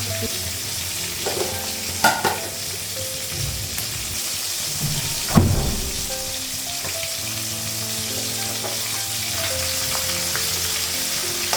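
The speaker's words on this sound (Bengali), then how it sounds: "এক সাইডে ভাজা হয়ে গেছে মাছগুলো।" Fish fry in a pan of oil in a home kitchen, giving a steady sizzle with occasional stirring scrapes and a couple of sharper clinks, heard close with no talking.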